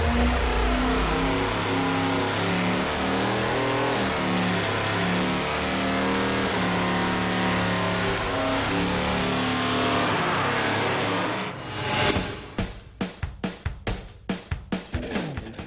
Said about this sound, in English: the custom ground solid cam lopes heavily